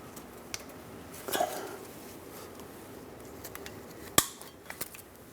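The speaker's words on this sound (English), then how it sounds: "I'm going to cut off the excess." Excess rubber brake hose on the left rear brake of a 2003-2009 Dodge Ram 2500 is cut off: faint handling rustles, then one sharp, loud snip of the cutter near the end, followed by a few light clicks.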